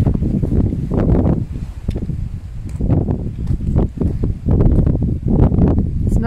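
Strong outdoor wind buffets the microphone in continuous low roaring gusts near a castle and mausoleum, swelling and easing throughout with no clear speech.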